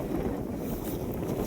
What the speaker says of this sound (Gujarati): એકદમ મસ્ત ઠંડો ઠંડો પવન હવે આવવા માંડ્યો છે.